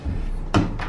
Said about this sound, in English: Close the bathroom door.